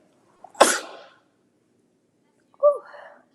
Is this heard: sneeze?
yes